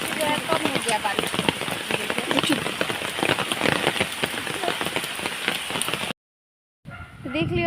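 Heavy monsoon rain pours steadily, with dense drumming and pattering of drops on surfaces close by, and a voice faintly under the downpour before a brief silence and a few spoken words at the end.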